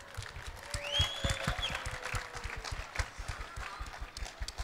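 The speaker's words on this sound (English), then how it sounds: "Big round of applause." An audience at a cosplay panel on a convention stage breaks into applause, a rapid patter of many hands heard from some distance, steady and moderately loud throughout.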